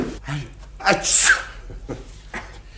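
A single sharp sneeze in a French radio drama, close and clear, set against a quiet studio background with brief surrounding voice sounds.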